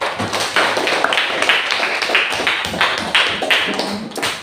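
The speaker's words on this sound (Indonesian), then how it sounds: "Tepuk tangan untuk kita bersama" A classroom of students claps hands together, dense, even applause-like tapping that holds steady at close range, with no talking.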